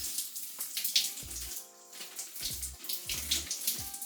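Running water soaks a section of curly hair during a wash-and-go styling routine, a steady splashing flow that dips briefly partway through and then resumes, close and fairly loud with no talking.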